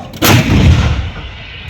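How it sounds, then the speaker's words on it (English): An M777 ultra-light howitzer fires once at a hilltop target during an army demonstration, a single loud, close boom followed by a rumbling tail that fades. "M777 ULH will now fire on cone hill top"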